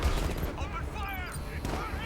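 Bursts of rapid gunfire in the Batman video game Gotham Adventures, loud, dense volleys with sharp onsets, mixed with game voices and effects.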